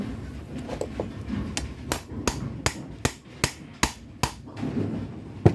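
A hammer drives a shaft collar onto the front roller shaft of a GS Series bowling pinsetter, striking about nine sharp metallic blows in a steady, evenly spaced rhythm, close and loud with no talk.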